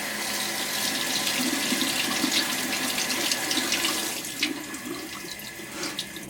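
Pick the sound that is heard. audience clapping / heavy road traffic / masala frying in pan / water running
water running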